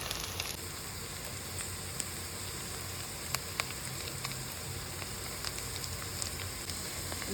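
Salted, turmeric-dusted greens sizzle faintly in a pan, giving a soft, steady crackle with scattered sharp pops and no voices.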